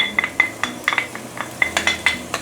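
A utensil stirring coarsely chopped dried shrimp with garlic, ginger and shallot in a pan, a series of close metallic clinks and scrapes in an irregular rhythm over a faint background hiss.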